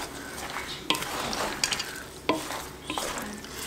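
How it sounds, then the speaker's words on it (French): A spoon stirs food in a slow cooker, giving close scraping and clinking strokes with a couple of sharp knocks against the pot, repeated unevenly with no talk over it. "Je vais mélanger un peu tout ça pour bien tout que ça soit uniforme au niveau des saveurs"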